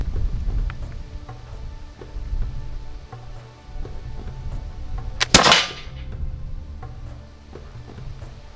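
An Islamic Roman miquelet doglock musket, known as a camel gun, fires a single loud, sharp shot outdoors, followed by a brief decaying echo against low background noise.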